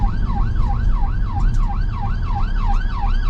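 A UK ambulance siren wails steadily in a fast, repeating rise-and-fall pattern through rush hour traffic, loud and close over a constant low road rumble.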